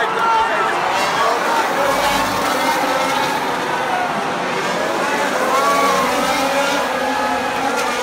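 Formula 1 race cars scream past on the final lap at the Abu Dhabi circuit, a loud sustained high-pitched engine whine rising and falling with passes, under a roaring crowd and excited voices.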